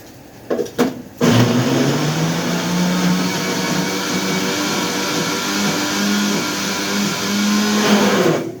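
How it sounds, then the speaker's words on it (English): An electric mixer minces ingredients with vinegar for Egyptian koshari, starting with a few short pulses and then running in one loud, continuous whirring drone that holds steady until it stops. "All of this I will mince on the mixer"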